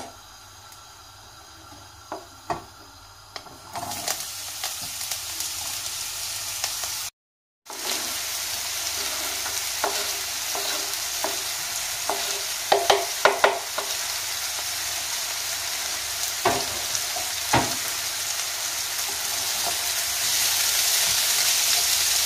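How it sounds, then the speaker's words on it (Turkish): Zucchini sizzles steadily in oil in a frying pan while a utensil stirs and scrapes it, giving scattered clicks over a constant frying hiss, with one brief cut to silence. "Aynı kabak kızartma yapar gibi karıştıra karıştıra bunu ne yapacağız? Tavamızda kızartacağız."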